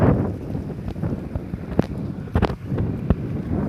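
Strong wind ahead of a cyclone buffets the microphone in a continuous low rumble, with gusty swells and occasional sharp crackles.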